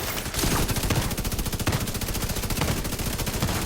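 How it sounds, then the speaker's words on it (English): Rapid, loud gunfire in The Division 2 PvP combat, dense repeated blasts filling the whole stretch with no pauses, close and dominant over everything else. "Nice shotgun."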